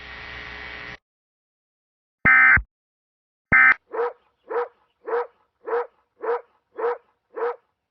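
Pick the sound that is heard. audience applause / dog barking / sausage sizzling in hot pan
dog barking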